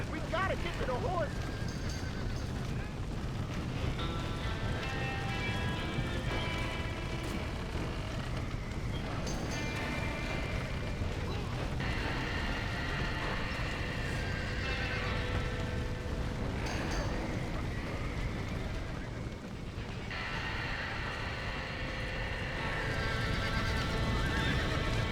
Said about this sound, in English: 말도 다 놀랬네.